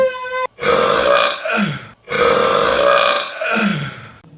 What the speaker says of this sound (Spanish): ¡Así se eructa!